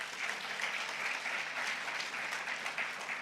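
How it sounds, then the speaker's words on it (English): A session audience at an evidence conference's closing remarks claps for the ACRES organisation, a steady, even wash of applause from many hands at moderate distance. "Let's clap for acres."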